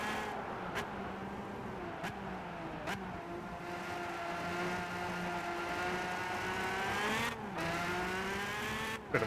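A McLaren F1 races in Gran Turismo 5, its engine droning steadily at high revs with rising and falling pitch through gear changes, a continuous loud whine with a few brief shifts.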